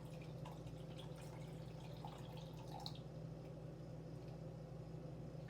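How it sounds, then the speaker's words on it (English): Kombucha is poured through a strainer, making a quiet, steady trickle with scattered drips over a low background hum, with no talking. "So we just strain it on through. I'm just going to pour this on up"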